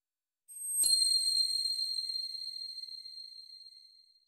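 A single bright notification bell ding strikes once, then rings out in a long, clean decaying tone with nothing else heard.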